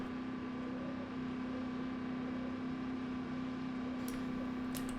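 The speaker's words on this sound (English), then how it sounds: "That sound you hear is a very unhappy engine that really wants to shift gears" Car engine straining in low gear at speed, a steady droning hum with a strong low tone and broad rushing noise, continuous and close, with a couple of faint high clicks near the end.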